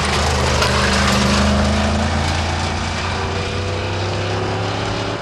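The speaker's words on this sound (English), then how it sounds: "Alan Wilkinson, the car passing our camera not sounding quite right before the engine gave way a few hundred yards at the stage." A rally car on a special stage passes with its engine running rough shortly before it fails, a loud, close, steady droning roar that eases slightly as it moves on.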